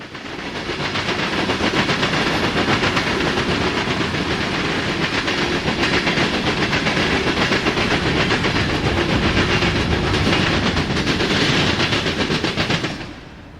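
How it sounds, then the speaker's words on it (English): CSX freight train Q389, running between Cumberland, Maryland and Chicago, rolls steadily past a junction in northwest Indiana, a loud sustained rumble with wheel clatter that holds for the whole stretch before easing off at the end. "This is train Q389, which operates between Cumberland, Maryland and Chicago."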